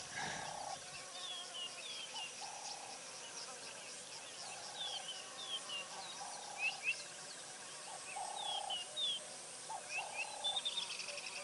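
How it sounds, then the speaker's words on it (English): Short scratchy calls of a southern black tit, a small active insectivorous bird, repeat at intervals in the background over a steady natural ambience with other faint bird and insect sounds. "It sounds like the call of the southern black tit in the background."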